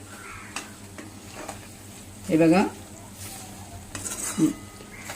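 A spoon scrapes and stirs an onion and ginger-garlic paste tempering with curry leaves and asafoetida in a pan, giving soft clinks and a brief louder scrape, with someone talking over it.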